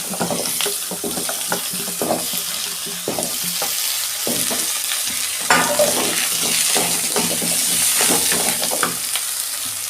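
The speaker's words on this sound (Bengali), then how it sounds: "বেগুন আর আলু একসঙ্গে ভেজে নিচ্ছি।" Eggplant and potato frying together in a pan, a dense crackling sizzle with frequent spatula stirring and scraping strokes throughout, close and fairly loud, no voices.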